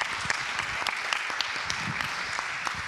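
Audience applause at a conference panel session, a steady, dense round of clapping from a moderate crowd heard close and continuous throughout.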